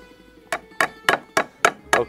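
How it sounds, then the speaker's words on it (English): Garlic cloves are grated on a microplane, six sharp, evenly spaced rasping strokes in quick rhythm, close and distinct with no talk. "You can grate some garlic right on there."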